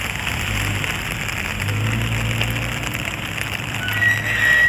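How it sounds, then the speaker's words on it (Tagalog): Steady rain falls outdoors, a constant hiss of drops on surfaces with low rumble beneath, fairly loud and continuous with no talking. "Maulan siya sis."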